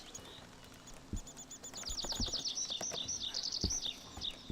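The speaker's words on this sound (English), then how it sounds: "Definitely feels like spring with all the songbirds out there chirping away." Spring songbirds in the farming game Farmer's Dynasty 2 give a run of quick, high trilling chirps, fairly close and clear. Soft thumps sound beneath them against a quiet ambience.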